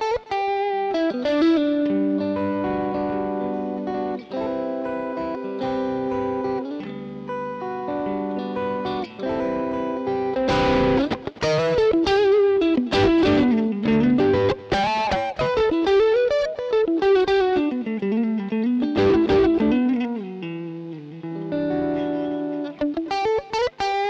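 An AriaPro II electric guitar played on its neck and middle pickups rings out in melodic single notes and chords, with bends and sustained tones that carry slight effects and reverb. The playing runs continuously for about twenty-four seconds.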